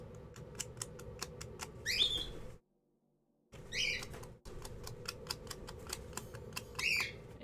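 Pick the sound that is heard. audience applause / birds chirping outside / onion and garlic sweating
birds chirping outside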